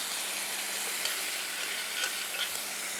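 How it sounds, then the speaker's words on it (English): Risotto rice sizzling loudly in a frying pan as stock is added, a steady close-up hiss with faint clicks and stirring scrapes throughout. "You're gonna add some stock in."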